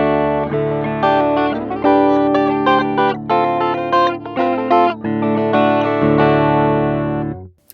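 A Line 6 Variax 600 modeling guitar in drop D tuning rings out through distortion and chorus effects, a loud run of strummed chords and riffs with a low droning bass note underneath, ending abruptly after about seven seconds.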